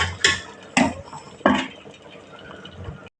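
Coconut milk goes into a pot of milk kozhukattai cooking on the stove: three sharp metallic clanks of a utensil against the pot, with soft liquid splashing in between and no talking.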